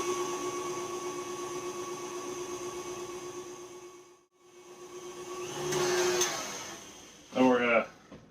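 Electric mixer beating egg yolks into yellow cake batter, a steady whining motor hum that dips briefly, then rises again as a voice talks near the end.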